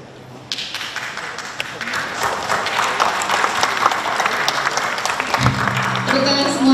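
Audience applause at a keris book launch at a national museum: dense, loud clapping from a crowd rising quickly and sustained, with a voice over a microphone joining near the end.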